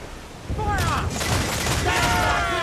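Ship cannon fire booms out in Assassin's Creed IV: Black Flag, a burst of heavy shots over music and shouted voices, loud and close.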